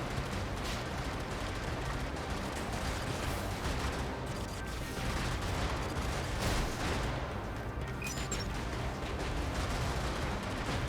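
Gunfire striking the player's vehicle in the video game Brigador, a dense continuous barrage of shots and impacts with rumbling blasts, sustained and loud throughout, with no speech.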